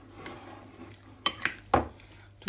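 Chicken, pineapple and curry sauce being mixed in a pan, with quiet stirring followed by several sharp clinks and knocks of a utensil against the pan, close by.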